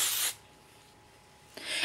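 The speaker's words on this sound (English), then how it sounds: "Now I'm just gonna spray it really well." Two short, close hisses of hairspray from an aerosol can, one at the start and one at the end, separated by a brief quiet pause.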